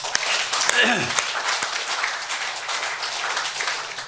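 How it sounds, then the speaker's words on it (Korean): Church congregation clapping during a Sunday service, a loud burst of applause with a voice or tone sliding briefly near the start, then steady clapping continuing under faint background sound. "하나님께 영광의 박수 드립니다."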